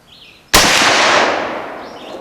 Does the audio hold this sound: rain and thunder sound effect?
no